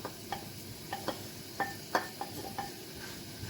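Sliced onion and garlic fry in a pan with a steady sizzle, punctuated by regular stirring scrapes roughly every half second, close and alone with no talking.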